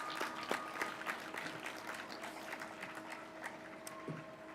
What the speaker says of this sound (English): can you give these people a quick round of applause for all they've done for you?